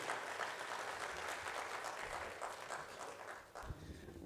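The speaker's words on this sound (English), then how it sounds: "A big round of applause for Rishi." Steady, dense applause from an audience at an investment and real estate summit, a continuous crackle of many hands at a fairly even level throughout, with no voices on top.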